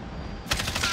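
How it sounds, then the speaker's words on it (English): Rapid automatic gunfire from the video game Warzone, a short loud burst of shots in one second of busy game audio. "But he's still shooting the down guy."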